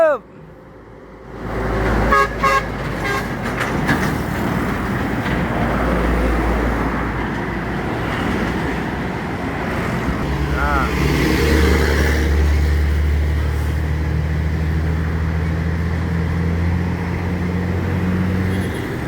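A Simba Surya bus with a long trailer passing on a Sumatra road, arriving from Java toward Palembang. Rapid horn toots give way to a loud, rising engine roar and steady road noise as it draws near, with voices in the mix.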